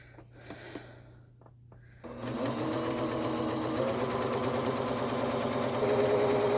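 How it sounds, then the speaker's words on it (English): A sewing machine runs a steady zigzag stitch along a skirt hem, starting after a quiet moment and continuing as a loud, even, rapid mechanical chatter until the end. "You could do it with the zigzag stitch and then serge it."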